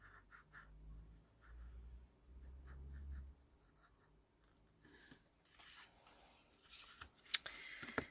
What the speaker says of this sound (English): I think I might just draw across here.